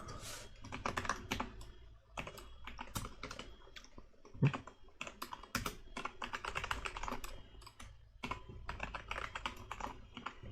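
Rapid, uneven typing on a computer keyboard during a programming session, with bursts of close, crisp key clicks and short pauses, alone with no talk.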